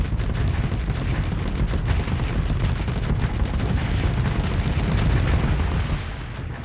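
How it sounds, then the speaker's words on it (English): Spaceships exploding in a Starsector space battle make a continuous, loud rumbling barrage of booms and crackling blasts that never lets up. "Enjoy the sound of spaceships exploding in the background"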